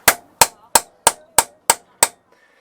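A big lump hammer strikes a stuck engine part seven times in a steady, even rhythm, each blow a sharp, loud metallic crack with quick decay, close by and alone.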